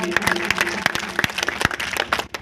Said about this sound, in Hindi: इसलिए एक बार फिर इनके लिए जोरदार ताली बजा दीजिए साहब के लिए।